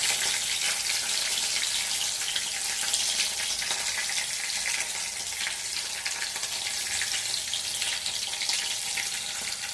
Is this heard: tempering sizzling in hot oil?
yes